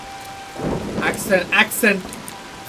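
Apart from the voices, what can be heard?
rain falling in video game Assassin's Creed Shadows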